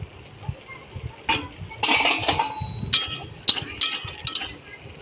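Shrimp stirred with a metal utensil in a cooking pan, with clinks and scrapes against the metal in short bursts, close and clear, with some faint background noise between strokes.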